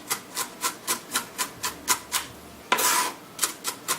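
A knife chopping pico de gallo ingredients into smaller pieces on a cutting board: a steady run of close, crisp cuts at an even rhythm, with one longer scraping stroke partway through.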